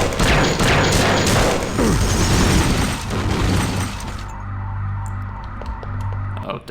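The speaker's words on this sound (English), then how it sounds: "Oh, did I break your monitors?" Monitors being shot and broken in the video game System Shock 2, a loud, dense clatter of gunfire, smashing and crashing glass that gives way to quieter mechanical hum and scattered clicks.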